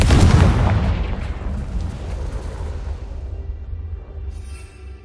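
Casting the Confringo fire spell in Hogwarts Legacy produces a loud, deep explosive boom that hits at once, then rumbles and fades over several seconds with no talk.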